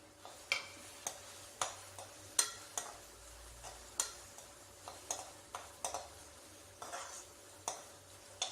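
Finely chopped garlic frying with onions for Gobi Manchurian hisses softly in a pan, punctuated by a regular series of sharp spoon taps and scrapes as it is stirred, quiet and close.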